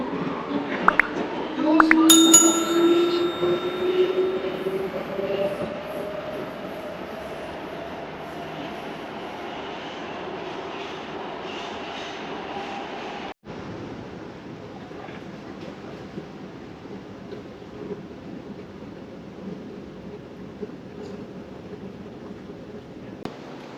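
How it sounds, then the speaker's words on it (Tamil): Budapest metro train on the old M1 line, a steady rumbling ride with brief squeals early on and a constant mid-level rolling drone throughout, with no talk over it. "ஹங்கேரியில் வந்து ஃபஸ்ட்டு டைம் வந்து மெட்ரோ ட்ராவல் பண்ண போகிறோம்"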